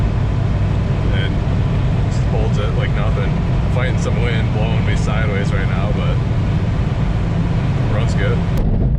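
A Toyota pickup with an 85-horsepower engine cruising at 70 mph in a sideways crosswind: a steady, loud drone of engine, tyres and wind rushing past the cab, running continuously under a voice.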